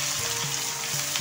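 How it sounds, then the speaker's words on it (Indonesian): A pan for a bitter gourd dish, made without boiling or added water, stir-fries with a dense, loud, continuous sizzle at close range, heard in a brief burst with no voices. "Kita tumis sampai baunya harum"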